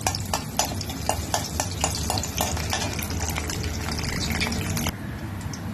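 Onion, garlic and a ginger-chilli paste go into hot oil in an old cooking vessel for tempering. A dense, close sizzle and bubbling carry rapid spoon clicks and scraping, then ease slightly toward the end.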